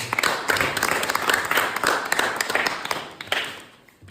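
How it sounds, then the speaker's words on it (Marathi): A crowd claps for Rohini after a three-pen puzzle, steady close applause with sharp individual claps that fades out at the end. "त्याबद्दल रोहिणीसाठी पुन्हा एकदा टाळ्या हो द्या"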